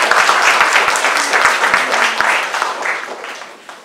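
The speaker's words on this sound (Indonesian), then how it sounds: "Tepuk tangan buat mereka." An audience bursts into sustained, dense applause at an Indonesian mountaineering talk event, loud at first and then gradually thinning and fading over about four seconds.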